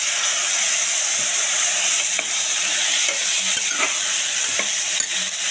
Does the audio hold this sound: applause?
no